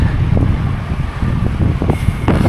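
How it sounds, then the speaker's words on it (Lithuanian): Strong, cold wind buffets the microphone of a cyclist riding a new coastal bike path between Palanga and Nida, making a steady, loud low rumble with gusty bursts throughout. "Kol kas mūsų Valdemarą daužo stiprus vėjas, o šakos pavinkusios."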